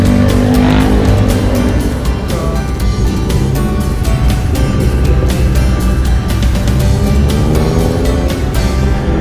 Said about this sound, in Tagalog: Marami pa rin ang sasakyan.